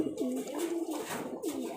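A Rajshahi highflyer pigeon coos close by, a few soft rolling calls with brief gaps between them and no voices.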